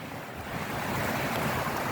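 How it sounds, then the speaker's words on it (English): Strong wind blowing across open hills, a steady broadband roar buffeting the microphone and building slightly after the first half second, with no voices. "It's windy here today, so wind is blowing very fast."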